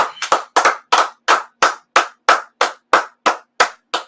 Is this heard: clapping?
yes